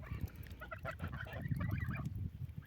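Young farmyard geese, about six weeks old, honk and chatter in a loose, overlapping flock, with repeated close calls and no speech.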